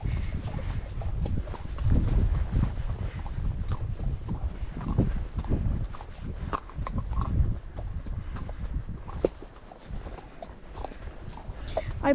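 Horse hooves clip-clopping at a walk on an outdoor ride, a steady close rhythm of hoofbeats recorded from the saddle, with wind and rustle around them and no clear talking.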